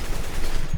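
Rapid, loud gunfire from Counter-Strike: Global Offensive on an aim practice map, a dense burst of shots with no gaps, close and sharp, with no talking.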